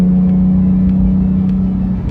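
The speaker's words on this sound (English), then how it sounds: "just driving along in the car. I've got the exhaust button open." A Porsche 911 GT3 with manual gearbox drives along with its exhaust valve open, giving a steady loud engine drone with a strong low hum that holds even for a couple of seconds.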